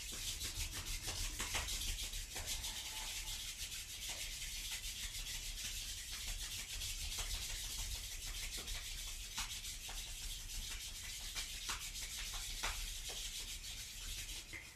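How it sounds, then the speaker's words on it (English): Palms and soles of the feet rubbing briskly against each other during a Kundalini yoga kriya, a steady continuous close swishing friction that carries on without pause and without any talking. "rub your feet and your hands against each other"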